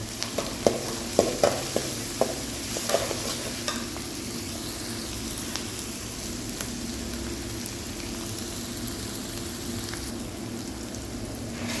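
Crushed ginger, garlic, cumin and green chilli sauté in a pan, with a dense, steady sizzle like light rain and a few crackling pops and stirring scrapes early on, close and continuous, without speech.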